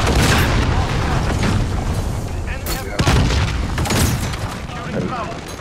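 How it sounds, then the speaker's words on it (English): A cruise missile strike in Call of Duty: Modern Warfare booms loudly and continuously amid dense gunfire and blasts, with voices talking over the battle. "Allied cruise missile launched."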